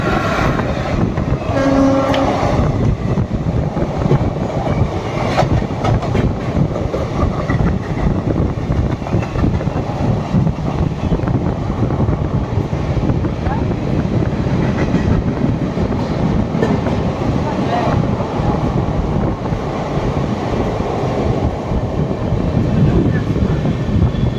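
An express train with a WAP4 electric locomotive and LHB coaches rumbles past close by with steady clickety-clack of wheels, and a horn sounds early on over the continuous roar.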